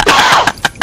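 A person's cough comes as a long, rough burst up close, followed by two shorter, sharp coughs spaced apart.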